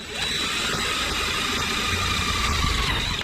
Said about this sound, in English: go ahead and pre-drill our edge so that it will take the rivet